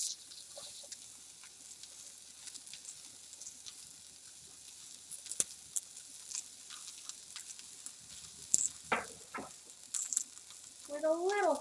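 Onion stir-frying with a sprinkle of salt in a hot pan for a shrimp and vegetable stir-fry, a soft continuous sizzle with scattered stirring scrapes and clicks that grow busier toward the end.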